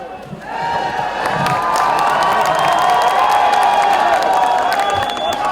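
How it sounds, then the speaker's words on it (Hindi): An audience at a film song launch event in Jaisalmer, Rajasthan, claps and cheers loudly, with sharp whistles rising over the steady roar of the crowd. "सर एक एक शॉट पे जो तालियां सीटियां बज रही हैं"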